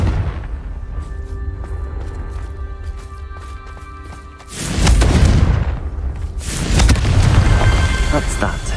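Confringo explosion spell cast in the video game Hogwarts Legacy, two heavy booming blasts with rumbling debris, loud and close, following a stretch of quieter in-game ambience.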